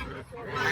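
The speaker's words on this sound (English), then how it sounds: "Oh, look at all those ducks." A crowd of ducks and geese honk and quack together at feeding time, a dense, continuous clamor close by.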